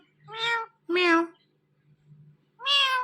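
A pet parrot imitates a cat's meow, giving three separate meow calls with short gaps between them, clear and close against a quiet background.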